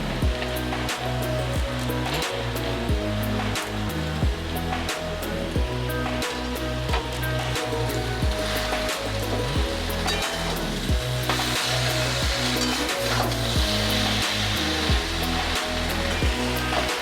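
Bottle gourd greens, seasoned with salt and turmeric, hiss and sizzle steadily in a hot pan for a vegetarian chorchori, with intermittent scraping and clatter from stirring close by.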